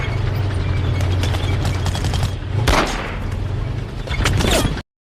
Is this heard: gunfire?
yes